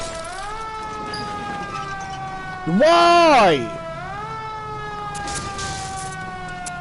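An ambulance siren in the L.A. Noire video game gives one loud rising-and-falling wail of about a second, standing out above steady game background sound and voices.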